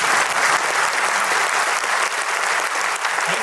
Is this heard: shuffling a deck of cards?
no